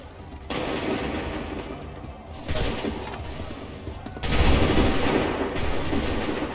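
A volley of musket gunfire erupts in Assassin's Creed III, loud dense bursts of crackling shots in several waves, the heaviest near the end, over a rumbling battlefield din.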